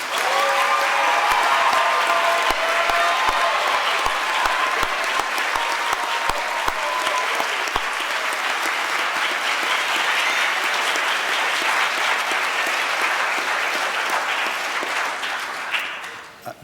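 Sustained applause fills a hall as an audience honours rising team members at a 2019 school awards ceremony, dense and steady throughout before tapering off at the very end.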